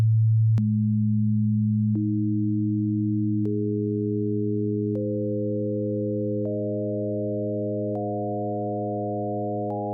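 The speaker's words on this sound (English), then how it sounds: "he used a signal tone generator to play all 10 tones" A signal tone generator plays ten pure tones in sequence, each new higher pitch entering about every one and a half seconds and sustaining over the earlier ones, building a steady, clean, undistorted stacked chord with no other sound.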